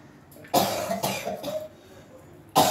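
A person with a cold coughs a few times, sharp close bursts with a short gap between them and a final cough after a pause, with no talk.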